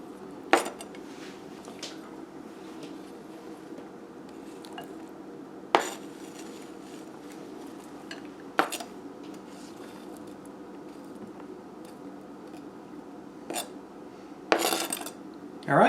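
A metal spoon clinks and scrapes against a bowl while diced avocado goes into a bean dip, with several sharp isolated clinks spread over a quiet background and a cluster of scrapes near the end.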